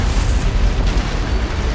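An antimatter charge goes off aboard a ship in a Halo: Combat Evolved cutscene, a loud, deep, rumbling explosion roar that fills the space continuously without speech.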